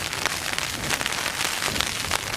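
Steady rain patters loudly on a Hilleberg Jannu tent in windy conditions, a dense close hiss of drops with scattered sharper taps and no voices.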